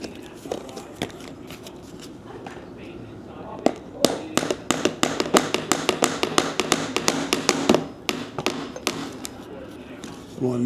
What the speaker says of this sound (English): I have to get a teeny weeny weeny hammer because my regular hammer is just too big to fit into these spaces.